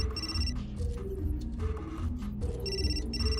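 A telephone rings in the video game Still Life 2, repeated electronic ring bursts in a steady rhythm over a low, rumbling game ambience, with no speech.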